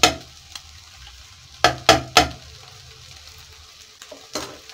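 A spoon stirs vegan mayonnaise with salt, giving a few sharp clinks and scrapes against the bowl with quiet pauses between them.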